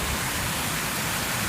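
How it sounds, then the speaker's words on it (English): Heavy rain pours outside a flooded house, a dense, steady hiss of water covering everything evenly, loud and close with no gaps. "See? It's really pouring."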